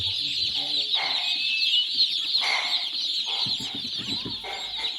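A dense chorus of young broiler chicks peeps constantly from a crowded poultry shed, with scattered clucks and rustling beneath the high chirping.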